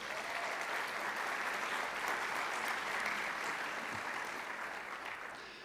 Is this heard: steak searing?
no